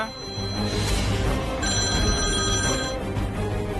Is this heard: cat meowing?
no